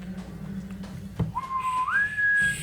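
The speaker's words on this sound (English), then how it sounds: "That's the whistle that called off the monsters." A whistle from the TV show Lovecraft Country, the one that calls off the monsters, sounds a single thin tone that holds and then slides upward in pitch, over faint background noise.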